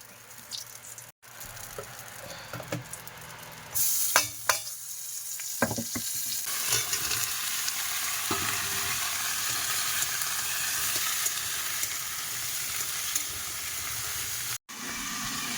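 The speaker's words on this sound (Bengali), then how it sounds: "এখন তরকারিটা ভালো করে কষাই করছি।" Rohu fish curry frying in oil in a kadai: a few clinks and scrapes of stirring, then a loud, steady, hissing sizzle that carries on without pause, with no talking.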